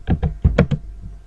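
Five sharp keystrokes tapped on a computer keyboard while typing code, closely spaced and up close, with no talking.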